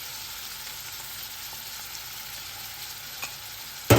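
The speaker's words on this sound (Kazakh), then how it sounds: "Бірінші осы етті қуырып аламыз" Two hundred grams of ground meat frying in a pan, a steady soft sizzle running throughout with faint stirring scrapes and a brief louder knock at the end.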